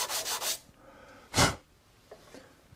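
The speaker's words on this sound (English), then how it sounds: "So I'm going to just sand those off." Sandpaper rubbing wood fuzz off a Krenov-style wooden hand plane, heard as a quick run of three close scratchy strokes, then one stronger stroke after a pause, with faint handling noise and no voices.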